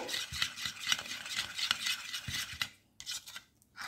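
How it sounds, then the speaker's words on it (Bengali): Turmeric and cumin powder being stirred into a liquid paste in a bowl for a hilsa curry, brisk rhythmic clinking and swishing of a spoon close by, then stopping abruptly near the end with no voices. "হলুদের গুঁড়ো নিয়ে নিলাম। একসঙ্গে ভালো করে গুলে রেখে দেব। গুলে নিচ্ছি ভালো করে।"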